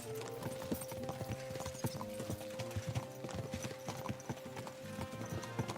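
Rhythmic clip-clop of horse hooves trotting steadily in the video game Kingdom Come: Deliverance II, with occasional snorting and ambient game sounds layered beneath.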